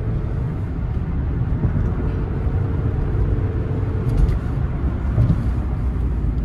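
A cheap used car on a test drive at a dealer-only auction, engine droning steadily as it accelerates toward highway speed, a continuous low rumble with road noise and no voices.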